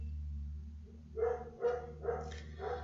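Several dogs barking in a short run of four sharp barks, moderately distant over a steady low electrical hum, with no talking.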